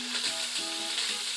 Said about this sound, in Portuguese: a gente vai virando ele aqui, vai fritando mesmo